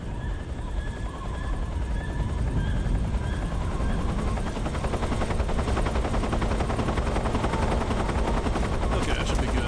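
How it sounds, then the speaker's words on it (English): In the Metal Gear Solid 3 video game, a helicopter approaches with a steady rotor thump and rumble, building slightly across the stretch, mixed with ambient game effects. "Helicopter's coming back"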